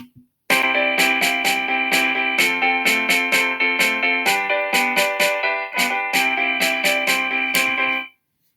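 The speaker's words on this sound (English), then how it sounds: "which is the snare drum and bass drum." A steady electronic snare and bass drum pattern made in Chrome Music Lab Song Maker, with sustained tonal layers, loud and regular, running for several seconds with no talking.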